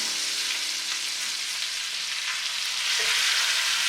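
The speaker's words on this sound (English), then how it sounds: "It's the first steak we put in, so we're gonna flip that on over." A steak sizzling hard in a hot pan just after being flipped, a dense close hiss that swells slightly louder near the end, with no talking.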